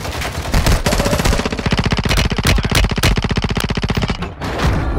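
Rapid machine gun fire in a shooter video game rattles in long sustained bursts, loud and close, with brief gaps between strings of shots.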